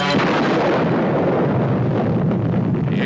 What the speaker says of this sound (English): The A-bomb, mounted on a tower in a lagoon, turns the sky white at the moment of detonation.